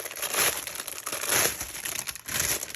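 Plastic packaging bags crinkling and crumpling close up during an unboxing, in three loud bursts of rustling with brief quieter gaps between them.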